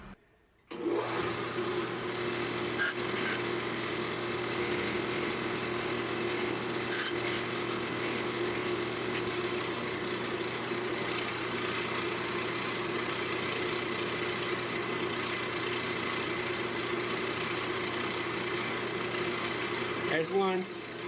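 A wire wheel runs at a steady loud whine with a low motor hum while a blade is held against it for grinding, continuous for about twenty seconds after a brief start.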